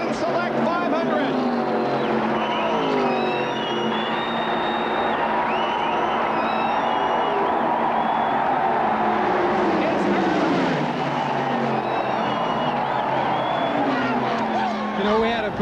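NASCAR stock cars roar through corner four into the trioval at Talladega at the end of the Winston Select 500, a loud continuous engine howl with pitch sweeps as cars pass, under a crowd and commentary.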